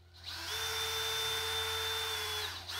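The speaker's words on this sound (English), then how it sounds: "Drill 2 holes." Power drill boring holes in a wooden stick handle for a drawer or cabinet, a continuous high whine running steadily for about two seconds.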